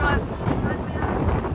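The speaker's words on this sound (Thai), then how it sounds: "ลมแรงวันนี้" Strong wind gusting across an open seaside spot on Heping Island, Taiwan, a steady loud roar buffeting the microphone for the whole stretch, with a faint murmur of voices underneath.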